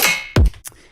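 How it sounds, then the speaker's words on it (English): Snare drum sample from a Tyrant dubstep sample pack: a single short, punchy hit with a bright noisy crack and quick decay, followed by a faint softer tail. "This one should be on the snare."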